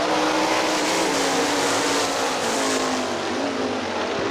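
A heat race of sprint cars roars around the Hartford Speedway Park dirt track, a dense, continuous engine howl holding loud and close for a few seconds with no voices heard.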